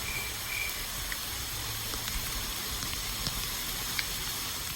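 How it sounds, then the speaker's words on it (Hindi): Heavy rain falls steadily outdoors where cicadas are emerging from the ground, a dense continuous hiss with scattered drop ticks, with high insect whine running through it. "बहुत ज़्यादा आ गई बारिश अब।"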